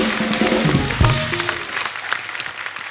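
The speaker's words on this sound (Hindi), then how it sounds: "ठोको ताली।" Studio audience clapping on a comedy talk show, a burst of applause mixed with some voices and a brief musical sting early on, fading to scattered claps.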